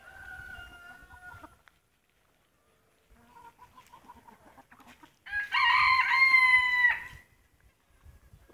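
A white bearded bantam rooster gives a loud, strained crow after some softer clucking, then the yard falls quiet again.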